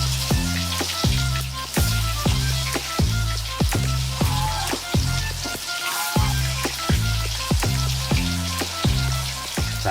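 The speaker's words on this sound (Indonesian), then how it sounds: "Adonan fuyung hai kluwih juga mesti digoreng" Fuyung hai batter made with kluwih (breadnut) sizzles and spatters in hot oil, punctuated by regular rhythmic scraping or tapping strokes, close and steady.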